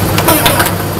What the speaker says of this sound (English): I will now let them into the mixing chambers and get the machine going